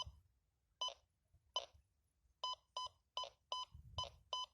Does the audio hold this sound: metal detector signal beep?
yes